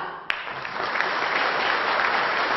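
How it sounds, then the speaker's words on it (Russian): A restaurant celebration crowd breaks into loud, enthusiastic applause for the guests of honour, beginning with a sharp clap and then swelling into a dense, sustained wash of clapping. "бурными аплодисментами встречаем героев этого"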